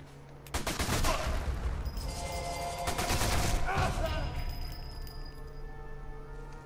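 Sniper rifle fire in the Sniper 4 video game at Lorino Dockyard: several sharp, loud shots in quick succession with crackling impacts and glassy clinks, followed by lingering rumble and ringing tails.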